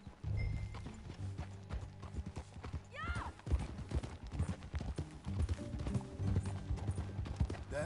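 Horse hooves clip-clopping on a trail in Red Dead Redemption 2, a steady rhythmic gait of close hoof strikes with a brief whinny midway and faint tack and gear rattles throughout.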